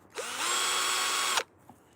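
Power drill boring a hole in wood during treehouse building, one continuous close whine just over a second long that stops sharply, with a brief rise in pitch as it spins up.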